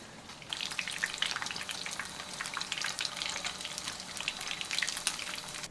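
Five-spice meat rolls pan-frying over medium heat, giving a steady close sizzle with crackling oil pops that runs from start to finish, with no voices.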